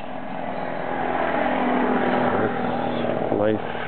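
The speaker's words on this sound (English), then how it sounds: "here comes a motorcycle." A motorcycle passes nearby outdoors, its engine a rough, moderately loud drone that builds steadily, while a person talks over it.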